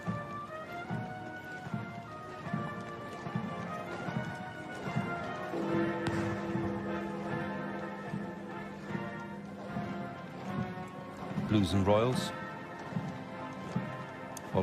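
Horses of the Blues and Royals clip-clop in a slow state funeral procession for Queen Elizabeth II toward Wellington Arch and Hyde Park Corner, steady hoofbeats with band music and a commentator speaking over them.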